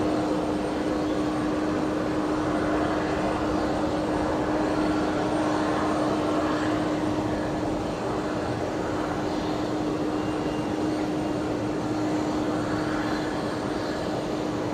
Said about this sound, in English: that's Velocity 1402, making a full-length departure here tonight